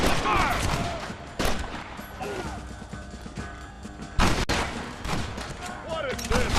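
Gunfire in a Red Dead Redemption shootout: repeated sharp, loud shots crack at irregular intervals over a dense battle din, with voices shouting between bursts.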